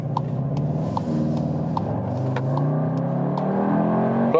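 VW Tiguan R in race mode accelerating hard from inside the cabin, engine tone climbing steadily through a gear change with a low rumble, loud and continuous without talk.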